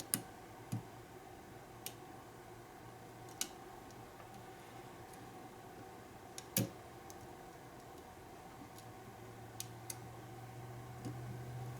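A lock pick works the "Kwican" challenge lock while its core gives a slight counter-rotation and click. Sparse, faint, sharp ticks sound at irregular moments over a steady low hum, with no talk.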